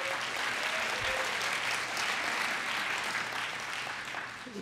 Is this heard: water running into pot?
no